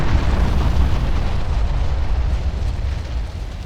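An enemy structure blowing up in the Ground Control video game, a loud, sustained rumbling blast with heavy low crackle that holds for several seconds and slowly fades.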